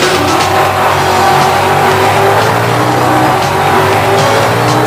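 A 1993 SsangYong Musso with a Mercedes-Benz engine tears away with squealing tires and a loud, continuous engine roar, steady and close throughout with no voices.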